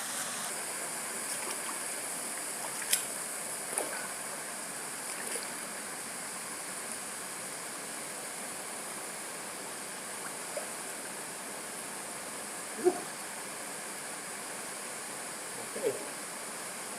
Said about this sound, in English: So all along here, come across these little waterfalls and pools.